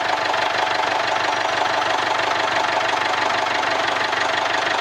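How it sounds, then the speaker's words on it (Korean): A Jaguar F-Pace engine, just topped up with oil after failing to start earlier, idles loudly and steadily up close with a dense, rattly knocking texture and no voices. "오일만 넣어도 시동이 걸리네"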